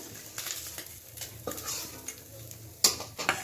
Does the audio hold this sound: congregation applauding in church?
no